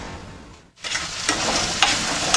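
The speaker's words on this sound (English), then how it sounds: "Stir everything up really well." Garlic and ginger get stirred into a simmering pan of sauce, with a brief hush and then a steady close sizzle and bubbling, plus a few scraping strokes of the spoon.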